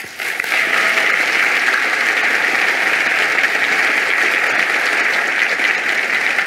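A conference audience at a climate change event applauds to welcome speaker Dr. Michael Greger, steady dense clapping that holds loud and even throughout.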